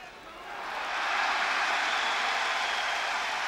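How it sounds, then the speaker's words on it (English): A boxing arena crowd at the Henry Maske vs Graciano Rocchigiani fight swells into a wide, loud, continuous roar of cheering that holds steady and doesn't fade. "Crowd goes wild from a slight combination thrown by Maske"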